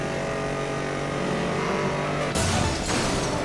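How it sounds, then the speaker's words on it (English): A Chevrolet car engine in the racing game Need for Speed: Most Wanted (2012) drones loudly at high revs, then jumps sharply in pitch as it shifts and accelerates, with no voices over it. "It even has the same engine sounds as the Camaro"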